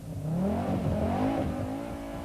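Rally cars, VW Golfs and an Audi, race on a 1986 stage. One engine revs up and down through the gears, near and loud, with tyres working through the bends.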